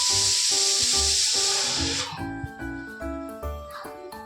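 A small pressure cooker full of boiling potatoes lets out a steady, loud steam whistle for about two seconds, then cuts off, leaving a tonal melody over low kitchen background.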